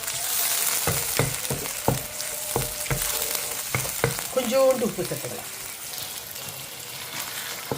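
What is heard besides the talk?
masala sizzling while sautéing in oil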